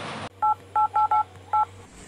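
A telephone dials a radio station with five short touch-tone beeps in an uneven rhythm, clear and close over a steady low hum, with no talking.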